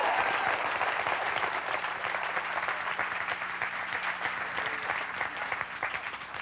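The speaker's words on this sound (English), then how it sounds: "Folks are applauding you, Mario." A late-night television studio audience applauding steadily, a thick, even wash of clapping that eases slightly toward the end.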